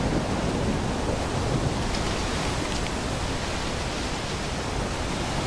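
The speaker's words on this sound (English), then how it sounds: "I should be fine to travel in a storm, right?" Rain pours steadily in a thunderstorm in STALKER 2, a dense, even hiss filling the scene with faint low rumbles beneath and no voices.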